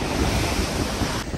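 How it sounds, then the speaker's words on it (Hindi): Strong sea waves crashing at Manora Beach in Karachi during rain, a loud continuous roar of surf mixed with heavy wind buffeting the microphone. "बहुत तेज़ लहरें यहाँ पर आ रही हैं।"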